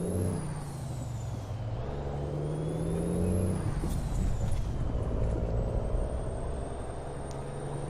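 Truck air brakes in the video game American Truck Simulator hiss loudly and continuously over a deep engine rumble, with a faint high whine running through.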